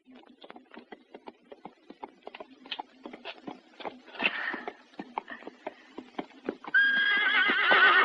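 A horse whinnies loudly near the end, preceded by a steady series of hoof clip-clops on hard ground.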